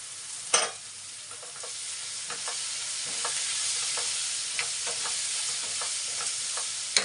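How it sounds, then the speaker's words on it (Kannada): Onion frying in a pan for an onion gojju: a steady, fairly quiet sizzle runs throughout, broken by repeated scraping stirs at an uneven rhythm, with no talking. "ಚೆನ್ನಾಗಿ ಫ್ರೈ ಆಗಿದೆ"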